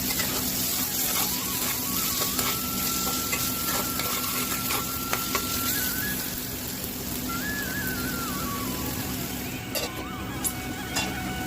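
Boiled chicken pieces frying in hot oil in a pan give a continuous close sizzle with repeated scraping and stirring strokes, plus occasional faint clinks.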